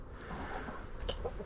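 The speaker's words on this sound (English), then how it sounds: "And here's the 44 birds and 4 roosters." Flock of 44 hens and 4 roosters on a farm, soft scattered clucks over a quiet background, a couple of short calls near the end.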